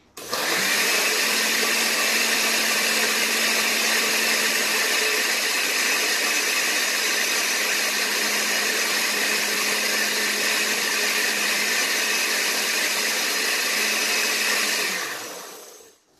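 A kitchen blender whirs through chili peppers and other ingredients for a catfish pepper soup. It runs as one steady, loud motor drone for about fifteen seconds, then winds down and stops.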